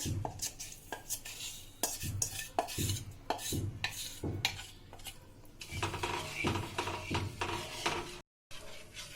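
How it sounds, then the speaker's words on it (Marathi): A spoon scrapes repeatedly against a pan as a mawa mixture is stirred in hot ghee over low heat for gujiya filling. The strokes come in an even, moderately loud rhythm with clinks of metal. "आता हे आपल्याला असं कमी गॅसवर हलवत राहायचे घट्ट होईपर्यंत"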